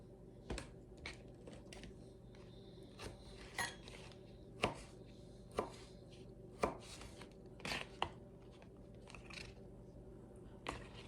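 A knife chops kiwis and grapes in a home kitchen, giving sharp, irregular board taps about once a second over a steady low hum, close and fairly clear, with no talking.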